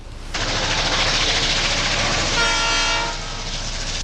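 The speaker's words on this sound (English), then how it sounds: "Here's a tracking shot I did of what else but a train." A train passes close by, a loud rumbling roar of rail wagons rising in at the start, with a horn sounding briefly partway through, no talk.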